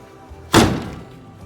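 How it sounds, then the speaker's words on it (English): A Ram Rebel tailgate step slams shut with a single hard, close thunk that rings out briefly, heard alone without talk. "That slams home really hard."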